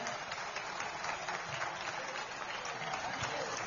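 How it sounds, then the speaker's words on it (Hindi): Steady applause from an audience at a Jain religious gathering, dense and continuous for the whole stretch, with faint voices mixed in beneath the clapping. "तालियां बजा के अनुमोदना करते जाएं।"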